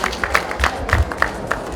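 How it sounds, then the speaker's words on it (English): A small audience at a coronation-week medical mission event gives a brief, sparse round of applause. A few distinct claps sound in an uneven rhythm over a low, muffled background thump. "Can we give him a round of applause?"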